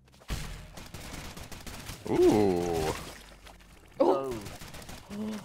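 Rapid gunfire of ignite-upgraded fire-damage bullets in the modded video game Rounds, a dense crackling fusillade with several bursts, and a player exclaims briefly over it.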